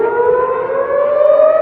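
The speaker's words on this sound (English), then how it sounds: "Air raid sirens sounding off in the Tel Aviv area" Civil defense air raid sirens wail across the Tel Aviv area, a steady loud rising tone with a strong harmonic held without a break, and no voices.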